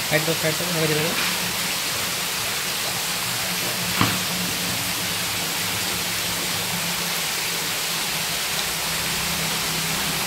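Shing catfish, the males given a hormone injection for breeding, are poured one by one into water. A steady, close rush of splashing water runs throughout, with a brief voice at the start.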